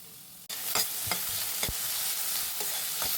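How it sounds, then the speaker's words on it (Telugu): Onion pieces frying in oil in a pan until brown: a sizzle that starts abruptly and holds steady, with several scraping stirs along the way. "ఈ ఉల్లిపాయ ముక్కలు బాగా బ్రౌన్ కలర్ వచ్చేవరకు వేస్తున్నాం"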